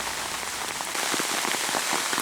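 Light rain falls steadily during an evening bow hunt for deer outdoors, a soft continuous patter that is fairly close and even, with no voices.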